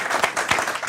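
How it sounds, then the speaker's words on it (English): Brief burst of audience applause at the close of a real estate financing talk event, scattered claps fairly close and moderately loud for under a second. "Let's give our guests here, special guests, a round of applause."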